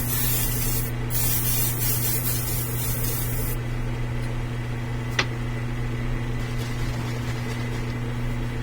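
A Grex airbrush sprays primer onto a 1/4-scale model prototype with a steady, close, loud hiss over a constant compressor hum, the spray easing off partway through with one brief sharp click.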